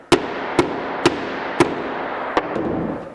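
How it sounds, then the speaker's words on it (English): A hammer drives nails flush into a subfloor sheet during a sunroom renovation, five sharp, close strikes spaced unevenly over a steady low background hum. "a couple more nails to the right that need to be, basically banged back in, hammered back in flush"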